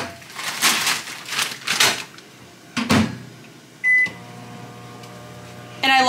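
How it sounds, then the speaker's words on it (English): A new, quiet microwave oven is set and started: a burst of clattering and handling, a few button presses and a beep, then a low steady running hum continues to the end. "I love this new microwave because it's so quiet compared to our other one."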